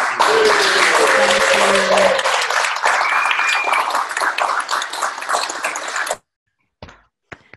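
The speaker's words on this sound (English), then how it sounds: "one final big round of applause" Applause from attendees of a 2018 Hall of Fame ceremony: a loud, dense burst of clapping with faint tonal sounds in it, thinning over the last seconds before cutting off abruptly, followed by a few scattered faint clicks.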